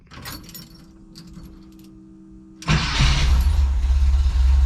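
An old bus engine cranks and catches after a new starter is fitted, rising abruptly from a quiet idle hum to a loud, steady rumble that stays close and fills the rest of the moment.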